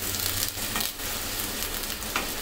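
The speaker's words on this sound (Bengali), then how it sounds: "পেঁয়াজের পেস্টটা একটু ভালো মতন 2 মিনিটের মতন ভুনে নিতে হবে" Onion paste being fried in a pan for an egg and potato curry, a close, continuous sizzle with soft scraping stirs and no talk.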